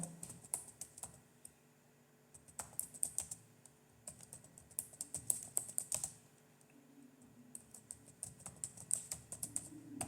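Typing on a computer keyboard: two quick bursts of close, fairly quiet key clicks separated by a short pause, then another burst, with no talking.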